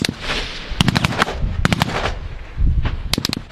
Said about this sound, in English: The regime started shooting back with a lot of their belt-fed machine guns